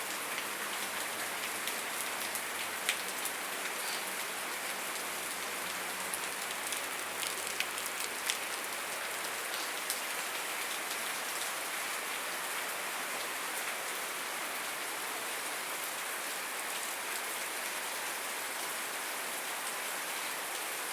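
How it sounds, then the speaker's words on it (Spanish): Steady rain pouring in Antigua, Guatemala, a dense, even hiss of drops hitting surfaces with scattered sharper patters, continuous and unbroken, with no voices. "Comenzó la lluvia de nuevo aquí en Antigua Guatemala."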